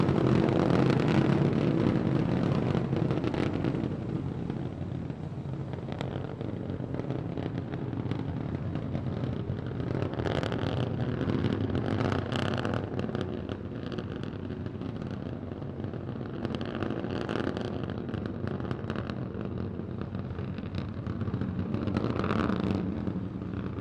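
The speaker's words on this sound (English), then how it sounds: "All 3 Raptor engines continuing to burn." Three Raptor engines on a SpaceX Starship SN15 test flight keep burning with a steady, broad rumbling roar. It holds throughout as the vehicle climbs toward 10 kilometers altitude.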